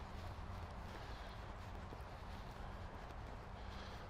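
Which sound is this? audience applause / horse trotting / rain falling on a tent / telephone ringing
horse trotting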